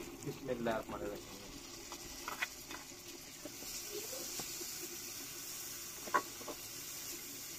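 Steady low sizzle of tomatoes frying in a pan with ginger garlic paste, with scattered soft clicks and scrapes from stirring and a brief faint voice early on.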